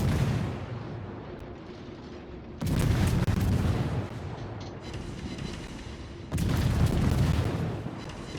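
Naval guns on the destroyer Sims fire in World of Warships, two loud booming salvos a few seconds apart rising over a low rumbling ocean and engine bed.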